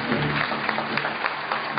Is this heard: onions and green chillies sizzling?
no